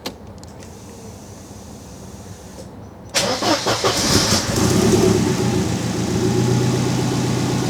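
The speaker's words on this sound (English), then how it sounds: "Car starts." A Mercedes 190E with a swapped M111 engine sits quiet, then fires after a short crank, catching abruptly and settling into a loud, rough, steady idle up close.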